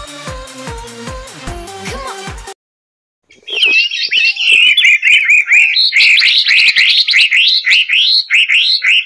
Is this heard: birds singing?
yes